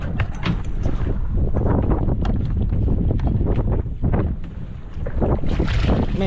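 Fishing boat motors run steadily as the boat backs up at sea. The engine drone is heavy with wind buffeting the microphone throughout.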